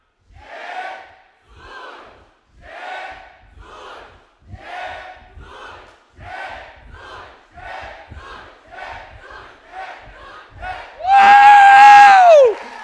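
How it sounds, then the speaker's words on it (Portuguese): A conference audience shouts in rhythmic bursts, roughly one every second. It builds into a loud, sustained whoop and cheer near the end. The crowd sounds close and dense, with voices chanting together. "Pode aplaudir vocês aí"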